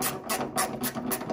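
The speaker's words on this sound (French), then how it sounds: "La clé à cliquet." Ratchet wrench fitted with a 10 mm socket turning on a Singer sewing machine part, giving four quick clicking ratchet strokes in a brief, close burst.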